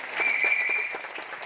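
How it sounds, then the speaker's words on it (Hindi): Audience applause in a large hall welcoming the Chhabra family at an RCM business event in Mumbai, a steady, fairly dense wash of clapping with a faint whistle-like tone over it, lasting throughout. "जोरदार तालियों से आपका स्वागत।"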